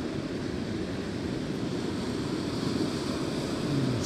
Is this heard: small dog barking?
no